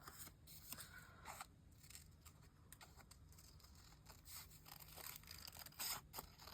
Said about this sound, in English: So I'm going to cut this on purpose just a little bit bigger.